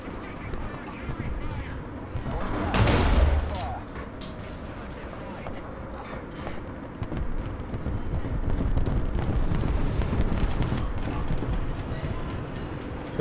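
Artillery barrage in War Thunder, a broad rumbling blast near the three-second mark with continuous low battle noise and tank engine drone throughout, heavy and sustained rather than sharp.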